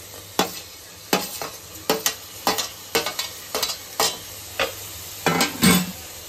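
Tomatoes stirred into a frying Rayalaseema-style curry in a pan, with steady sizzling under roughly a dozen distinct scraping stir strokes at an even rhythm, close and fairly loud, no talking.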